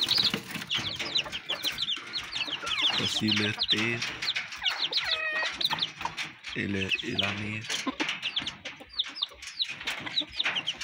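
White Pacific breed chicks, future fighting roosters, peep and cluck busily near the microphone, with high, rapid calls running throughout while someone talks over them.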